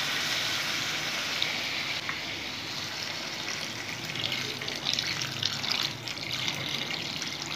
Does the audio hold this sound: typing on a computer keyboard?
no